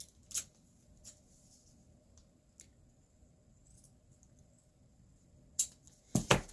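Scissors snip sewing binding in a few sharp, isolated cuts spread across a quiet stretch, with a quick cluster of close snips at the end.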